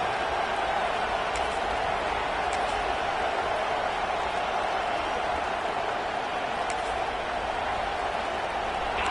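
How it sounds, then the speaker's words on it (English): Stadium crowd at an Alabama football game on third down, a steady, distant roar of many voices that stays even and unbroken throughout, with a few faint higher shouts poking out now and then. "The Tide crowd rolling noise down onto Saban Field on third down"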